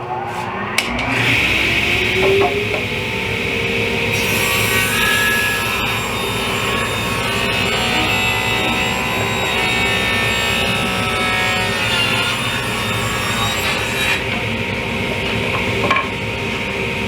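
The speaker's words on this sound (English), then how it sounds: "I'm going to be cutting 4 of those." In a woodworking shop, a power saw spins up and then runs at a loud, steady whine for about fifteen seconds while it cuts wood for table legs.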